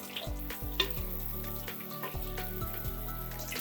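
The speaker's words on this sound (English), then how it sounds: "once the mustard oil heats up, we add this into the oil. We cook this for a couple of seconds on high flame." Hot mustard oil sizzles steadily on a high flame as an ingredient for a Kashmiri sundried vegetable curry fries in it, a close, continuous crackle with light stirring knocks and no talking.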